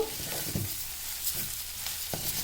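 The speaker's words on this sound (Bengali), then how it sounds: "পোস্ত আর পেঁয়াজ একসাথে ভাজা হচ্ছে" Onion and poppy seeds fry together in a pan, giving a steady, close sizzle with a few stirring scrapes; no talk.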